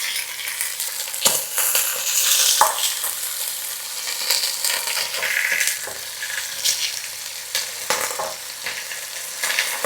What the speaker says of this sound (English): We'll start searing the short ribs.